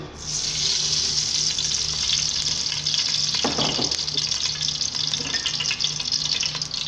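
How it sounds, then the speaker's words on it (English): Oil goes into a hot saucepan on the stove, sizzling steadily and loudly up close, with a brief clatter partway through as the pan is handled. "Now you add the oil."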